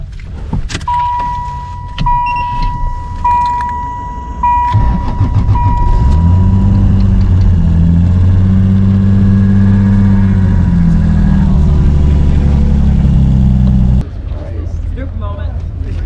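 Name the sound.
Camaro car engine revving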